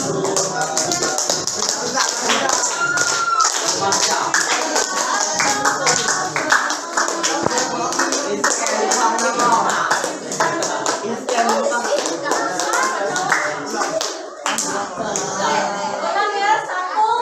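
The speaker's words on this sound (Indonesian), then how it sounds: "Tepuk tangan." A classroom group of teachers in Indonesia claps after chanting a group cheer, close, brisk and uneven hand claps with some rhythmic bursts and background chatter mixed in.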